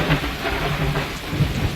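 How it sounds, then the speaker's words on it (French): Steady rain pours down with low rumbles of thunder rolling underneath, a dense continuous storm wash with a few heavier thumps, no voices. "7 jours après, la pluie commence à tomber."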